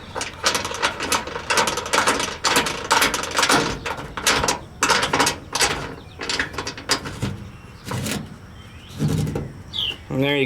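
Rapid clicking of a ratchet tightening screws on a homemade bar part, a dense run of close, loud ratcheting strokes in quick bursts with brief pauses, no voice over it.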